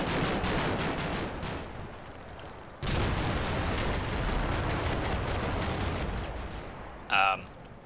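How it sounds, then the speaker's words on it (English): Rapid bursts of cannon fire with air-bursting rounds crackle in the Combat Mission war game, a dense run of sharp shots breaking off briefly, then resuming, ending in a short louder burst. "So we do get some shots off with the cannon."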